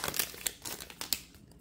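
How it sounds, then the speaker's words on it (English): Crinkly plastic tearing and crackling as a rough dollar store Pokemon Sun & Moon blister pack is pulled open, a few quick crisp rips close up and fairly quiet. "Today we're going to be opening up a really rough packaged dollar store blister pack"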